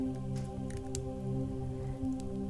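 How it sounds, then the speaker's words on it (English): Rain patters on the roof of a moored boat, a faint, steady shower of soft drops over a low constant hum, with scattered slightly louder taps. "you hear rain begin to fall on the roof of the boat"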